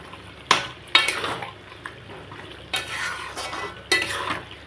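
Biryani meat cooks in a pot, with a soft simmering bubble beneath several loud, sharp scrapes and clinks of a metal spoon stirring against the pot, spaced irregularly, with no voices.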